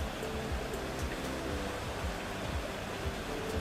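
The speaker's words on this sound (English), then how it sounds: "Opening paddles to let water out reduces water pressure on the gate." Water rushing out through open canal lock paddles, a steady dense roar of churning flow with a low rumble, continuous and fairly loud throughout.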